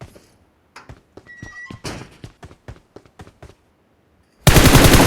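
Bursts of gunfire in PUBG Mobile on the Livik map: a run of sharp, closely spaced shots in irregular volleys, loud and near, followed by a short silence and then a sudden loud blast of noise.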